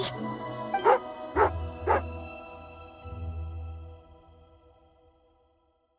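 A dog in the video game Genshin Impact gives three short, separate barks over soft game ambience and a low drone, then the scene fades to quiet.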